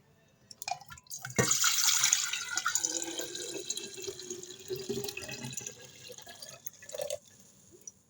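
Homemade blackcurrant juice drink (mors) is poured in a splashing, trickling stream that starts abruptly, runs for several seconds, then tapers off; no voices.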